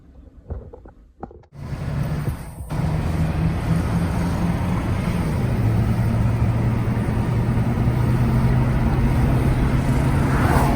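Steady roar of highway traffic along the Pacific Coast Highway heard from a beachside campsite, a continuous broadband road noise that swells in after a few quiet seconds and stays loud, with a low engine hum passing through.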